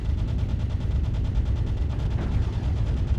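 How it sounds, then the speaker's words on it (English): A mech's machine gun fires nonstop in MechWarrior Online, a dense, steady rattle of rapid rounds with a heavy low rumble and no talking over it. "I've got enough machine gun ammo I can do this all day"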